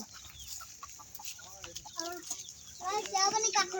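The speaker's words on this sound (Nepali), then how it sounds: "यता हाम्रो कुखुराहरू" Several chickens cluck and squawk nearby in short bursts in a backyard with a mango tree, growing busier toward the end, with a voice speaking faintly in the background.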